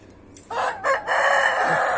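A rooster crows loudly and close by, one long drawn-out call that rises and holds steady to the end.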